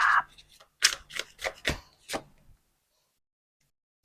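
Tarot cards being shuffled and drawn during a Thai love-fortune reading, heard as a quick run of crisp card flicks and slaps over about two seconds, then silence.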